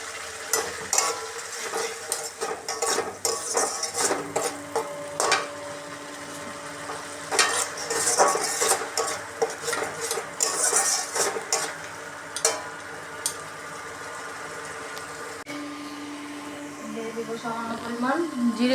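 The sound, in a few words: sautéing fish with spices and salt in a pan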